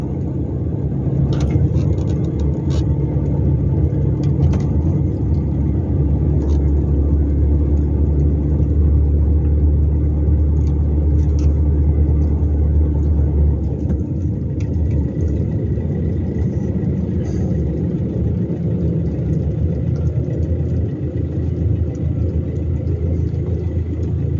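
A car drives into the Ubon Ratana market, its engine giving a steady, close low rumble and whir throughout, with faint ticking above it and no voices.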